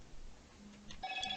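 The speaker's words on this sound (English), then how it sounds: "that's my phone going off, sorry about that." A mobile phone rings briefly and faintly in a quiet room, a short electronic tone pattern starting near the end of the moment with no one talking over it.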